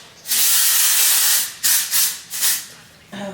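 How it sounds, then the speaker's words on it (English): Dry shampoo sprays from an aerosol can onto hair. One long close hiss is followed by several shorter bursts, and a faint voice sounds at the very end. "And I just like to spray the dry shampoo on the hair."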